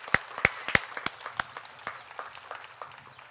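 Sparse applause from an outdoor Memorial Day gathering at a lakeside park, a few sharp individual claps at first, then softer scattered clapping that thins out.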